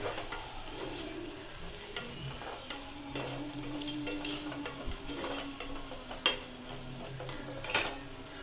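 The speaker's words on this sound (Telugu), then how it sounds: "దాంట్లో ధనియాల పొడి, గరం మసాలా యాడ్ చేసుకొని మంచిగా మిక్స్ చేసుకోవాలి" Masala with coriander powder and garam masala stirred in a pan for egg biryani: a low continuous frying sizzle under repeated spatula scrapes and occasional light metallic taps, close and steady.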